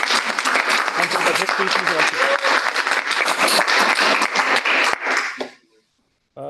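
Loud, dense audience applause fills a conference hall at an international engineering and management conference, with a voice speaking over it before the clapping cuts off sharply near the end.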